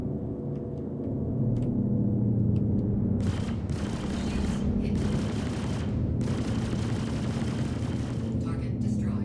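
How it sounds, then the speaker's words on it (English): Staggered-mode repeater guns firing in the Star Citizen space game, a dense run of rapid shots with bursts and short pauses over a steady low engine drone, fairly loud and continuous. "I like how staggered mode makes my repeaters actually sound like repeaters instead of like cannons"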